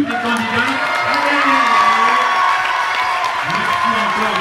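A crowd at a regional beauty pageant cheers and applauds the contestants loudly, whoops and shouts rising over steady clapping throughout.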